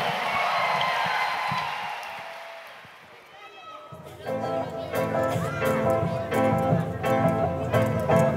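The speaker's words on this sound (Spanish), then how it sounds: "Que se escuche ese aplauso fuerte para nuestros niños de preescolar." Parents in an audience applaud preschool children at a school concert, a broad wash of clapping and crowd noise that fades over a few seconds before music begins.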